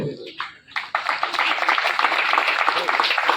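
Audience applause honouring a chief guest at a Republic Day celebration in Chromepet, starting after a brief voice and swelling into steady, dense clapping from a crowd that continues to the end.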